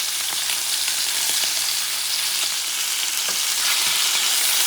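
Citrus chicken pieces frying in a pan, a loud, steady broadband sizzle with faint scattered pops and no voices throughout.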